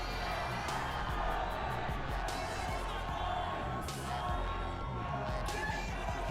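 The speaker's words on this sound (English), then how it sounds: "You can hear the fans getting into it now, cheering for their favorites" Fans cheer at the Arnold Classic strongman and physique finals, a steady indoor crowd roar with swelling bursts of shouting and scattered whoops throughout.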